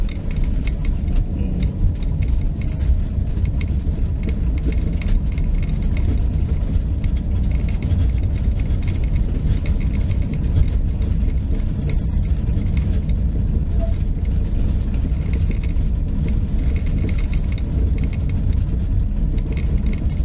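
Toyota Agya with a manual gearbox driving along a road, a constant low engine and tyre rumble with muffled cabin noise lasting the whole stretch, steady and close.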